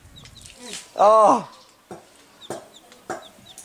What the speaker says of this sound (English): The cute little chickens.